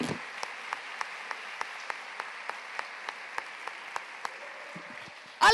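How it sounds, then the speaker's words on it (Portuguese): Congregation clapping in a church service, a steady rhythmic beat of hands in unison ringing in a reverberant room, ending with a sudden louder burst. "Pode aplaudir o Senhor, vamos aplaudir juntos."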